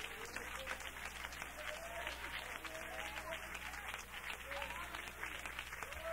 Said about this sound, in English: Some of you are just clapping.